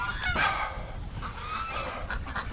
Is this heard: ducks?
yes